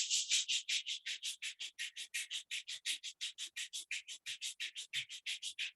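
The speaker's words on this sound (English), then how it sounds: "Rub your both palms." Palms rubbed briskly together in a yoga session, a fast, even run of about thirty sharp hissing swishes back and forth, close and fairly loud, with no talking.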